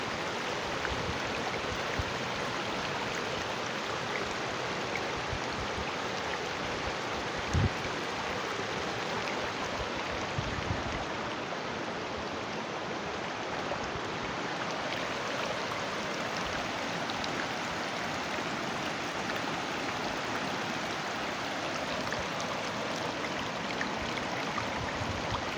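Tinkers Creek flows in a steady, gentle babble beside a trail in Bedford Reservation, soft and continuous, with a few faint knocks or footsteps and no talking.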